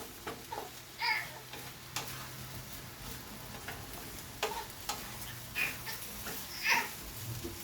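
Shrimp fried rice is stirred in a pan with a soft, steady sizzle, punctuated by sharp clicks and scrapes of the utensil against the pan at irregular intervals, fairly quiet and close.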